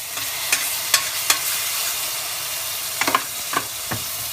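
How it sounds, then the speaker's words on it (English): Half a tablespoon of minced garlic fries in a hot pan, giving a steady, bright sizzle with a few sharp crackles and spatters, close and fairly loud, with no talking. "Now that our pan is nice and hot, we're going to start adding some of our ingredients. About a half a tablespoon of chopped minced garlic."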